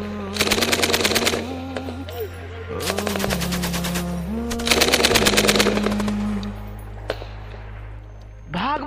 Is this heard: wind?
no